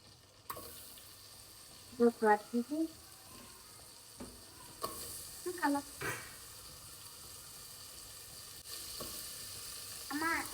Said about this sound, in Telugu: ఇలా మనం వెజిటేబుల్స్ అన్నీ బటర్లో వేసేసుకుందాం